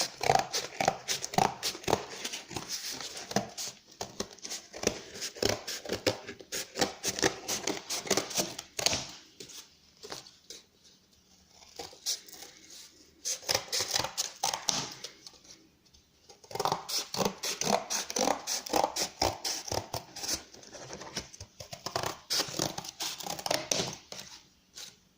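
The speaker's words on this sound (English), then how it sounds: "now I'm gonna cut it out with the scissors, make the mold out of it." Scissors cutting through cardboard to make slipper soles: dense bursts of close snipping and crunching, broken by a few quieter pauses.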